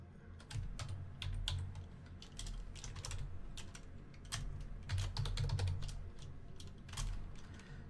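Typing on a computer keyboard to rename a file gives a steady run of close, crisp key clicks in uneven bursts over a low background hum.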